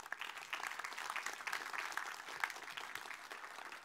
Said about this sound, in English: is that polite applause, or is that, like, enthusiastic Stanford applause?